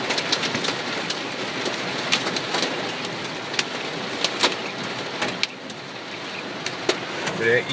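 Hail patters and rattles on a car in a breezy storm, a dense crackling wash broken by sharper hits of stones striking the body, steady and fairly close throughout.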